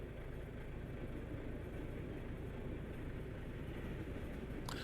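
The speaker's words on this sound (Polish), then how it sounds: "Akurat jedzie pociąg, więc tutaj chwilę będziemy musieli poczekać." Train passing at a crossing in Euro Truck Simulator 2, on a drive through Poland in an Iveco Stralis, heard as a faint, steady rumble that ends with a brief click.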